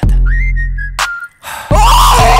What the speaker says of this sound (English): We got the whistling from, I'm pretty sure that's from the TikTok thing.